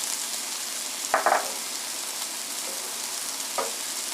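Lemon zest is stirred into a hot pan, giving a steady soft sizzle throughout with a couple of brief scraping stirs.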